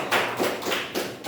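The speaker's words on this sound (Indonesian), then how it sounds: "Tepuk tangan buat Hermilian." Classroom applause for a student, a short patter of a few hand claps coming in uneven bursts, fairly close and moderately loud.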